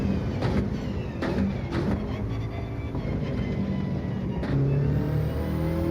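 A Subaru Impreza WRX engine is close and loud as it accelerates hard on a track, revving up through the gears and short-shifting, with a steady whirring drone and quick breaks in the pull as it changes gear.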